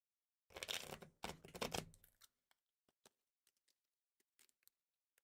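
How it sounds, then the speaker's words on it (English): Sleeved playing cards are shuffled by hand: a dense riffle of rapid flapping in two bursts, then a scatter of soft isolated clicks and taps as the deck is squared, close and quiet. "Give them a good shuffle."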